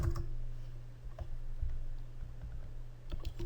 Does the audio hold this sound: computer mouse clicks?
yes